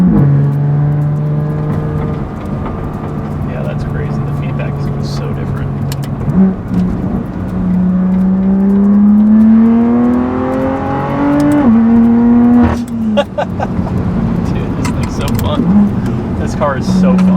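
A BMW F87 M2 running stock power accelerates hard, its engine note climbing steadily through the revs with a gear change, loud and close from inside the car, with people talking over it.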